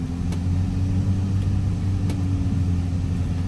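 Car engines idle in a traffic jam held up by pothole repairs on a road in Roatan, Honduras, a steady close low rumble heard alone, with no talk over it.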